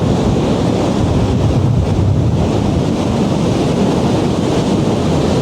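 Ocean waves break on a beach in a loud, continuous roar of surf, the rush swelling and churning without pause, with wind buffeting the microphone throughout and no voices.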